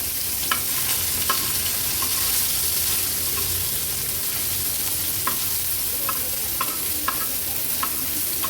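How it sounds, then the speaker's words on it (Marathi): Mandeli fish frying in hot oil in a pan, a steady loud sizzle throughout with a few light clicks of a turner against the pan, no talking. "ही मांदेली झटपट अशी आपली फ्राय करून झाली आहे"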